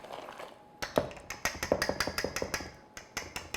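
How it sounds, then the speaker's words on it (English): A wire whisk stirs chocolate yogurt pound cake batter with chocolate chips in a bowl, a quiet start giving way to a steady run of close, sharp clicks and taps against the bowl, with no talking. "I'll start with my whisk and then I'll end with my spatula."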